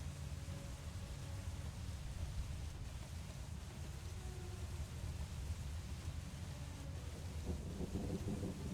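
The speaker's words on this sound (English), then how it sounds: "Sound of rain. So peaceful." Steady rainfall with low rumbling thunder as an ambient sound effect, a continuous even wash of noise with deep rolling energy, played alone at a moderate level without any talk.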